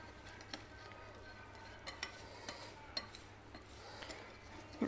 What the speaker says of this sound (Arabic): نقلب كويس